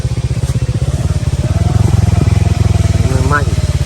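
A motorcycle engine chugs steadily close by in a pulsing, rhythmic beat that swells as it rolls past, with a brief rising whine near the end and faint background noise.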